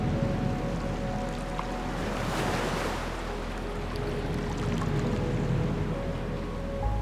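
Calm ocean waves rolling in at night on South Africa's Garden Route, a steady broad wash of surf with a low rumbling undertone and a gentle swell of breaking water midway, heard alone with no voices.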